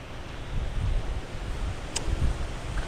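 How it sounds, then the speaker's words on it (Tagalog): Steady, blustery wind roars across the microphone on farmland being planted, with low rumbling gusts, and no voices are heard. "Malalakas yung dating ng hangin."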